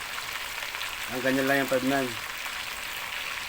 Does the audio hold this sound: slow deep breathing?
no